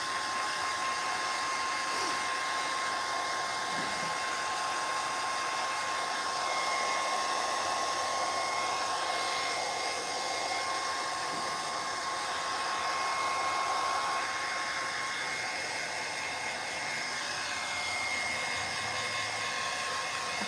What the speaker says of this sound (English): I kind of get worried too, like with the heat gun, like I don't want to burn this piece